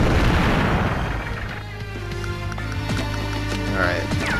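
Artillery fires in the turn-based strategy game Advance Wars: Days of Ruin: one loud, booming blast at the start that rumbles and fades over about a second and a half, then gives way to steady game music.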